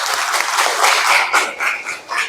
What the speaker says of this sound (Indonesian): mari kita berikan tepuk tangan untuk kelompok 3